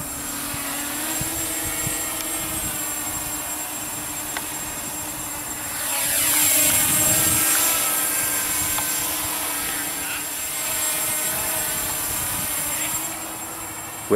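An Emax Nighthawk 250 racing drone flies outdoors on its maiden flight, giving a steady high-pitched motor whine that swells louder as it passes closer and fades again.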